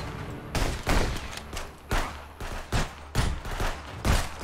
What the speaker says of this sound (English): Oh my God, he's shooting me now.